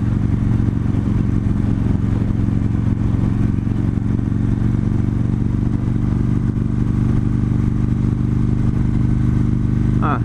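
A 2015 Victory Hammer 8-Ball motorcycle rides with a loud, constant low engine rumble and wind roar heard from on the bike, steady throughout with no voices.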